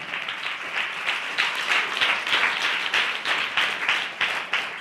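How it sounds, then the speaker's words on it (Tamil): A church congregation claps hands in worship, dense sustained applause with a faintly rhythmic pulse running evenly throughout. "இவ்வளவுதானே கைத்தட்டு."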